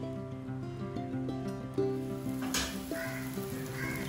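Ginger garlic paste, chopped tomato and spices frying in a pan, a steady close sizzle with scraping stirs and a sharper burst partway through, no talking.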